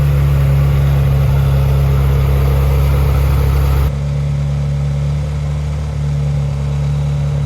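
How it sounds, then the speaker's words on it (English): A Ferrari engine idles steadily with a low, constant hum and rumble, close up; the tone drops slightly partway through but keeps running. "leave the car running for a couple hours"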